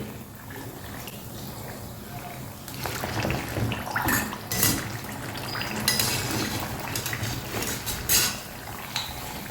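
Aloo samosas deep-frying in hot oil while being turned over in the pan, with metallic clinks and scraping of a utensil against the pan over a steady bubbling sizzle.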